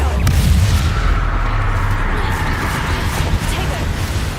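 Booming spell blasts from the Bombarda explosion charm in Hogwarts Legacy, heavy low rumbling impacts layered with constant game effects and continuous speech over a dense, loud mix.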